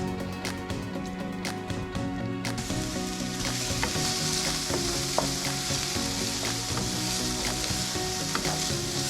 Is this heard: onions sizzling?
yes